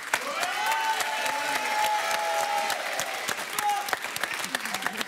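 Studio audience on a French television dating show applauds as a couple is welcomed, with sustained, even clapping and a music jingle playing underneath.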